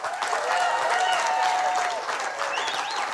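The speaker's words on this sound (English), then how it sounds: "Nothing like a clapping time." Audience applause welcoming a man onto a stage at a book launch event, a dense steady wash of clapping with some higher tonal sound riding over it, sustained through the whole stretch.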